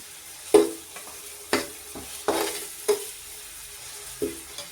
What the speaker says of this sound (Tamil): நல்லா மிக்ஸ் பண்ணிவிடணும் இஞ்சி போட்டு நல்லா வேகணும்